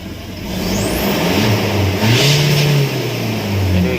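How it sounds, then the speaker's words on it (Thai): A pickup truck's engine with 60,000 km on the clock revs up and holds a steady mid-pitched drone, rising and easing slightly over a few seconds, close and loud, with no talking. "มาดูรอบเครื่องกันนะครับ"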